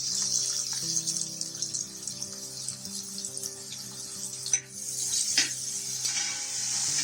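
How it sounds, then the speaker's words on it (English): Chopped red onions and garlic cooking in a pan, with a steady broadband sizzle and occasional stirring scrapes throughout, fairly close and continuous with no talk. "Let's stir this well till the onions become translucent"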